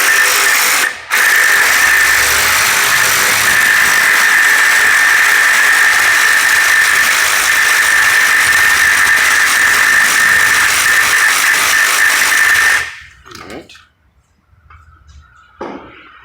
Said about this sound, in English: Next thing you want to do is loosen this bolt